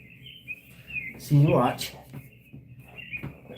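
Bird chirp sound effect playing on a livestream: a few thin, high tweets repeating steadily in the background while someone talks over them.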